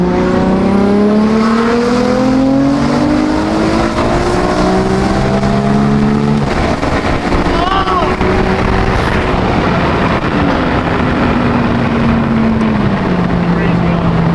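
A 900-horsepower built-motor BMW M4 screams up through high RPM near 9,000 under full acceleration, loud and close, with several rising pulls broken by brief gear changes while people talk excitedly over the engine.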